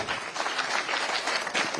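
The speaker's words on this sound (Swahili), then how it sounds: "Makofi." Steady applause from a crowd at a political address in Nairobi, dense clapping that holds evenly throughout with no pauses.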